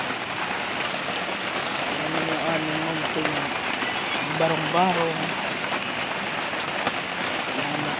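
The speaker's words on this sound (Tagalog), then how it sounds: "Wala naman siyang hangin kaso ang lakas ng ulan" Heavy rain with no wind drums steadily on a small shack, a dense unbroken hiss from start to finish, while someone speaks briefly over it.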